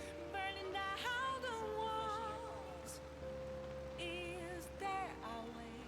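Steady rain ambience from the Persona 5 Royal video game, a soft continuous hiss running under melodic in-game music throughout.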